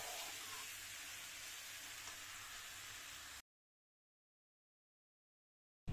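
Water hits a pan of potatoes frying in spices for a prawn malaikari, giving a steady, fairly close hissing sizzle for a few seconds before it cuts abruptly to silence.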